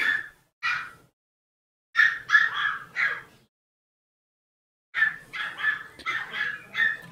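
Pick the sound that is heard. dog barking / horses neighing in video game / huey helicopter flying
dog barking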